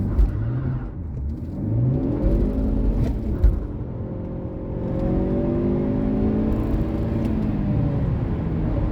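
A 2014 Ford Focus ST estate pulls hard from standstill to 100 km/h, its engine note rising through the gears with audible upshifts and a steady interior rumble, heard from inside without talk.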